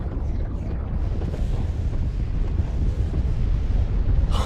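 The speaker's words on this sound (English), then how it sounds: "drop all of our bombs" Bombs pounding a colony in the space strategy game Master of Orion: Revenge of Antares, a continuous loud low rumble of overlapping blasts that keeps rolling without a break and swells slightly at the very end.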